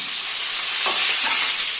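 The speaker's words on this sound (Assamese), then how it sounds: "আমি পিঁয়াজটো ভাজি লওঁ" Steady hiss of onions frying in a hot pan, with a couple of soft stirring scrapes partway through; no voices.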